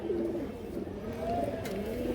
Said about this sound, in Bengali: এই যে দেখেন দর্শক অনেক বড় সাইজের একটা কবুতর, খুব সুন্দর কবুতর দর্শক।